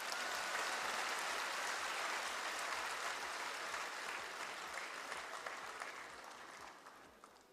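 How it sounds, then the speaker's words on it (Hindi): An audience at a government event for newly appointed public servants claps steadily, dense applause that gradually thins and fades toward the end. "एक बार उसके नाम ताली बजा दीजिए।"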